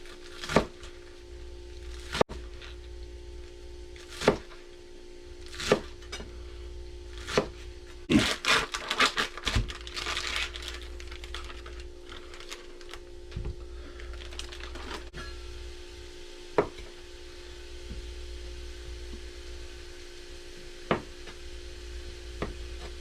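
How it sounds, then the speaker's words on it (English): Onions chopped with a knife on a board for a Cajun jambalaya: sharp, isolated knife thunks at irregular intervals over quiet kitchen background, with a brief flurry of quicker cuts near the middle. "I'm going to chop my onions up now,"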